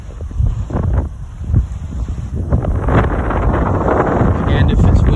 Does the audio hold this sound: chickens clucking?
no